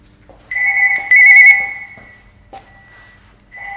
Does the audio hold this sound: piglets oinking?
no